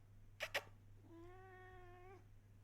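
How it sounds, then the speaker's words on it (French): A domestic cat gives one clear, drawn-out meow, fairly faint and nearby in a quiet room, preceded by two brief taps. "si vous entendez du bruit, c'est Titinaldo le chat"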